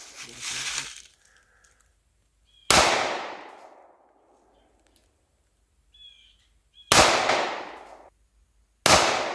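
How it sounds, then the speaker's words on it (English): Sharp 9mm pistol shots from a SCCY CPX2 semi-automatic handgun fired outdoors, four loud separated reports with ringing decay, spaced a few seconds apart, with faint bird chirps between. "he shoots it pretty well for the first time ever shooting"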